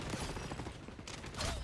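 Pistol gunfire from a Call of Duty video game, heard as a dense run of overlapping shots and impacts mixed into busy game noise, with a louder burst near the end.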